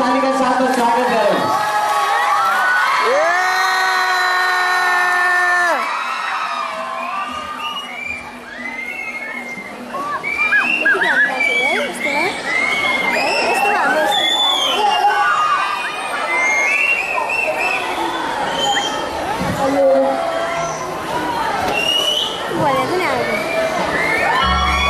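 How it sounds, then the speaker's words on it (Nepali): A school audience at the Shambhavi School kids' dance show in 2013 applauds and cheers, with children shouting and whooping in a loud, continuous crowd roar lasting throughout. "फेरि एकचोटि जोरदार तालीका साथमा स्वागत गरौँ"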